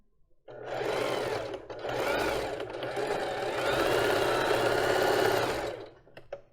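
A sewing machine stitches a basic lace bra in three sustained whirring runs separated by brief pauses, loud and close, with the motor drone steady throughout.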